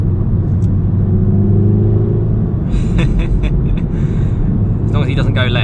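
A 300 hp four-wheel-drive VW Golf R accelerates on a road in England, a steady, loud low engine rumble filling the whole stretch, with brief brighter bursts of noise near the end.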